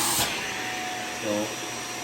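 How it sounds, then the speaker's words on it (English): A vacuum cleaner strains as it pulls too hard, giving a loud, steady roar with a brief rise in pitch near the end. A voice can be heard under it. "I heard the vacuum complain because it's pulling too hard."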